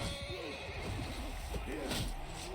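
A horse neighs in the combat game Mount and Blade II Bannerlord, with rising and falling whinny cries over a steady busy background of battle noise, loud and close throughout.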